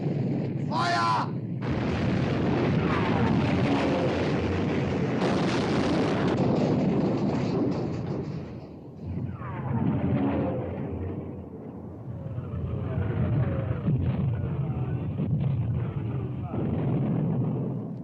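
The battleship Bismarck's naval guns fire in heavy, booming blasts with rumbling tails, accompanied by shouted commands and battle noise on deck.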